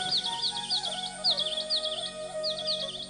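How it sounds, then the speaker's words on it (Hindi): Small birds chirp on a kadam tree branch in short bursts of rapid, high twittering calls. The calls repeat several times, fairly faint, over a soft background hum with no talking. "कदम की डारी पर नन्हे पक्षियों का चहचाना,"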